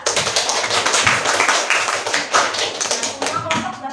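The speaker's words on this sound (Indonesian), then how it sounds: "Tepuk tangan dulu ke kelompok 2." Students in a classroom clap for a group that has just given its presentation: close, loud, uneven hand claps from a small group, sustained for a few seconds.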